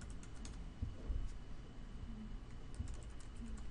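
Close, rapid clatter of keys as a title is typed on a computer keyboard, steady irregular tapping with a faint background hum and no speech.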